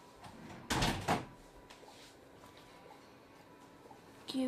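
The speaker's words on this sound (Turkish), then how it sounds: "Kapıyı da kapatayım." A car door thuds shut in a Roblox game, two quick closely spaced knocks near the start followed by quiet room tone and a small click at the end.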